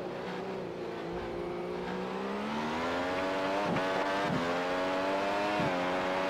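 An iRacing Grand Prix Series race car at Monza holds a loud, steady engine note that climbs in pitch. Sharp dips mark downshifts under braking before the engine revs climb again.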